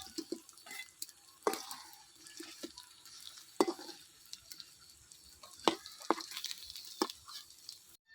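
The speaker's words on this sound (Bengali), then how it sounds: "বন্ধুরা দেখেন আমার পাকোড়াগুলো হয়ে গেছে, লাল লাল করে ভাজে নিয়েছি।" Battered cauliflower pakoras fry in hot oil with a soft, continuous sizzle, broken by frequent sharp clicks and scrapes of a spoon stirring and lifting them from the pan, close and fairly quiet with no talk.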